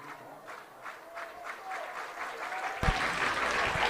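A Lehi home crowd at a high school 6A baseball consolation semifinal against Davis claps in rhythm, then bursts into loud, sustained cheering and applause, with a commentator's voice heard alongside.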